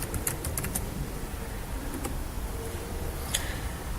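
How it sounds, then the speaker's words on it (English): Someone types a password on a computer keyboard, giving a quick burst of crisp key clicks at the start, then a few isolated taps over a faint room hiss. "Enter my password."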